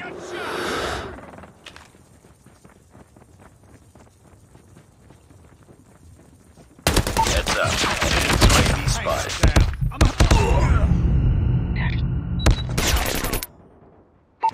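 Gunfire in the video game Call of Duty: a quiet stretch, then a long, dense barrage of loud, overlapping shots and impacts that suddenly breaks off.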